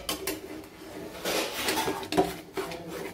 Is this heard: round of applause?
no